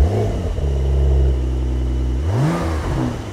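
Brabus-tuned Porsche 911 Turbo S engine starting up and idling with a deep steady rumble, then a quick rev that rises in pitch and settles back.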